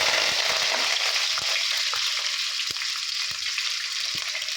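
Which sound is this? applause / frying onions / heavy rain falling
frying onions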